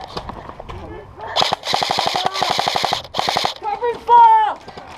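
Bursts of rapid airsoft gunfire during a flag game outdoors, several loud automatic volleys in quick succession, with shouted voices between and around the shots.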